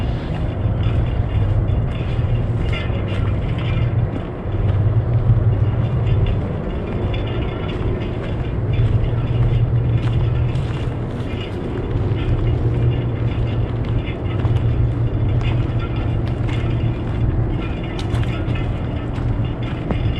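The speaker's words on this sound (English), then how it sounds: "Definitely can hear that factory though now." Steady low industrial drone of factory machinery running beside the Fox River near Kaukauna, a continuous hum with faint rumble heard outdoors along a hiking trail, with no talk over it.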